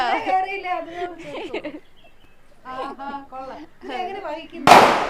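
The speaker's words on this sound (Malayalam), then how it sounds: "അയ്യോ പടക്കം പൊട്ടിയോ" People talk indoors, then near the end a single firecracker bursts with a sudden, loud, sharp crack close by.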